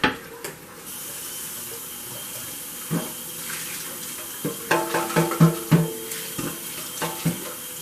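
Hot water poured into a crockpot of red beans, a steady splashing trickle that continues under several clinks and knocks from the pot, close by with no talk.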